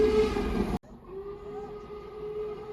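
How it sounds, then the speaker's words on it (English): Train approaching on a railway trestle, with a drawn-out whistle or horn tone sounding after a loud burst of noise cuts off, then a steady rumble building gradually. "Train coming. We gotta boot it."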